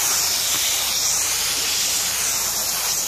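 A hose nozzle sprays hard while washing a horse, a continuous, hissing rush of water, steady and close for the whole stretch.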